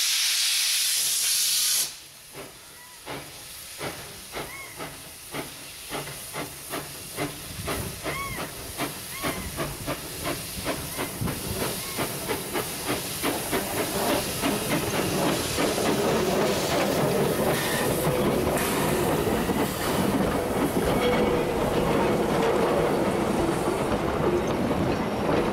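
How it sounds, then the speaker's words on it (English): Steam locomotive F13 hauling a heritage train at Ferrymead, starting with a loud hiss then rhythmic chuffs that quicken as it gets under way, joined by steady hissing steam and rolling wheel rumble building louder over the length. "F13 hauled the first train of the season at Ferrymead."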